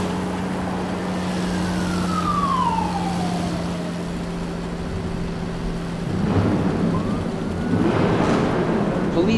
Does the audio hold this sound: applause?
no